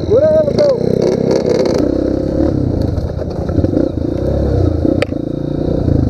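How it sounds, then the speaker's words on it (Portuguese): A mini motorcycle engine, a Pro Tork or CRF, revs loudly and continuously on a mountain dirt trail, with clattering and throttle swells under nearby talk. "acelerou, botou pra roncar agora"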